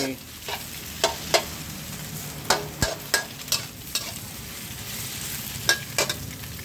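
Sliced bitter gourd and chili stir-fried in a pan, a steady sizzle under irregular scraping and clacking strokes of a spatula against the metal, close and fairly quiet, with no talking.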